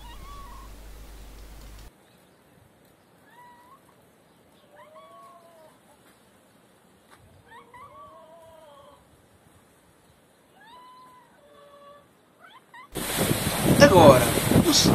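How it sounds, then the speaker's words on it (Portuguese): A house cat meows several times in a quiet room, short rising and falling cries spaced a few seconds apart at moderate distance, followed by a sudden burst of loud wind noise at the end. "é possível ouvir os miados do meu gato a dizer que está na hora do seu pequeno almoço"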